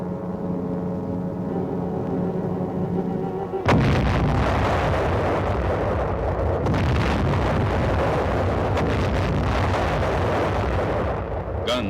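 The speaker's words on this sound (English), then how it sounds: "Guns of the 262-ship United Nations Armada began their point-blank preliminary bombardment." A Korean War naval bombardment at dawn off Wolmi Island at Inchon: guns of the 262-ship United Nations armada fire point-blank. A low hum gives way to a sudden, loud, continuous roar of overlapping booms and rumbling blasts.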